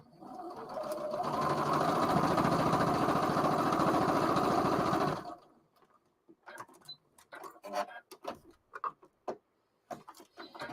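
A sewing machine runs in a steady, continuous stitching whir for about five seconds, then stops, leaving scattered faint clicks and handling noises.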